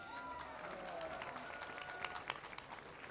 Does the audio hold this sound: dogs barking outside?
no